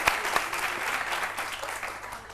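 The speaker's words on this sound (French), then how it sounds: "Je voudrais qu'on applaudisse très fort, c'est super." A live studio audience bursts into applause, dense rapid clapping from many hands with a few sharp near claps, steady and fairly loud across the short stretch.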